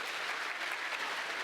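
A crowd at a Hindu religious discourse by Jagadguru Rambhadracharya applauds with continuous, dense clapping, steady and somewhat distant, filling the whole moment without speech over it.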